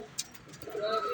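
Racing pigeon coming back into its loft, with a brief flutter followed by soft cooing close by.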